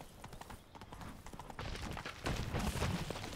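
Horse hooves clip-clop steadily on the ground in The Witcher 3: Blood and Wine, close and clear over a soft outdoor ambience that swells louder in the second half.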